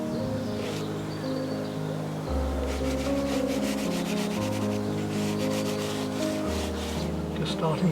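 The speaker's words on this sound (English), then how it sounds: "I've just got to rub them well in at the moment to be able to put my final colours over the top" Unison soft pastel layers are rubbed firmly into paper outdoors. A continuous, close, dry rubbing and scuffing carries on steadily throughout.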